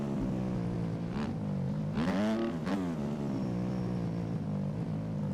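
Motocross bike engines whine and rev in the MX Bikes game during a full-lobby race at Unadilla, with a steady drone and one bike surging past with a rising, falling rev around the middle.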